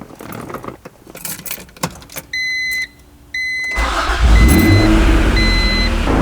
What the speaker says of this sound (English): Next, we're going to turn on the car and put the AC on high and recirculate.